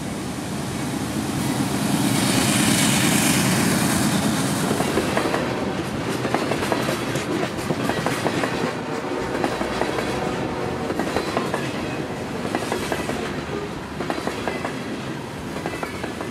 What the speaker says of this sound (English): Now there's a train coming.